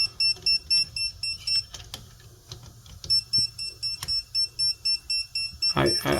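Hot stick non-contact voltage tester checking a receptacle, giving rapid, regular high-pitched beeps in a steady pulsing rhythm, with a brief pause midway and some handling noise and someone talking.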